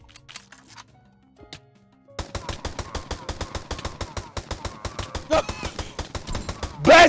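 Rapid gunfire in a chaotic Valorant match, a steady burst of closely spaced shots running for several seconds after a quiet opening, loud and close, with voices shouting over it.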